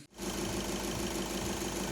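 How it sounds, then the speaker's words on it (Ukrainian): A 2013 Skoda Superb with a 2.0 TDI CFFB diesel engine idles while warming up, a steady close rumble with an even knocking texture that runs unbroken after a brief start. "Я вже запустив, пригріваю двигун."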